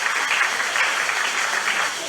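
A church congregation at a month-end seminar claps loudly and steadily together in a dense, even wash of applause, with a voice carrying over it.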